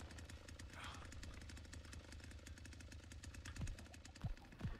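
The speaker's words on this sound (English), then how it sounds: "Okay, I can hear the chainsaw." A chainsaw in the video game The Texas Chain Saw Massacre drones as a steady, rapid mechanical rattle throughout, fairly faint and distant, with a few low thuds near the end.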